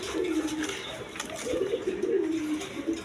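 Rajgolla pigeons cooing at a sale, soft repeated throaty coos rising and falling, fairly quiet and close, with faint background voices.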